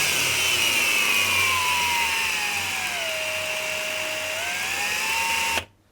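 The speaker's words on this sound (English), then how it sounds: "You have a listen to the motor. It's on slow speed at the minute." A Ryobi R18PF file sander motor whirs steadily at slow speed, its pitch dipping and then rising as the speed changes, close and continuous before it cuts off abruptly near the end.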